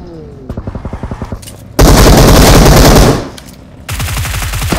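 Automatic gunfire in the battle royale game BGMI: a rapid rhythmic burst of shots, then a loud sustained barrage lasting over a second, fading before another close volley starts.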